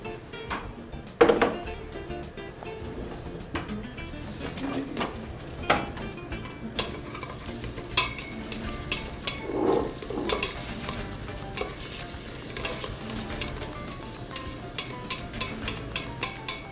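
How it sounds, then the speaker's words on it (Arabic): Onions sautéing in olive oil in a pan for chicken freekeh, with a steady sizzle, frequent stirring scrapes and occasional utensil knocks against the pan throughout, close up and without speech. "بقلي البصل اول شيء، بعمل لهم شوية سوتيه مع زيت الزيتون"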